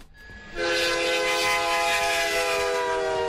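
Loud train horn blares with a passing train, sustained tonal blasts over rumbling rail noise, starting abruptly after a quiet half second and holding steady, with the sound panned from right to left.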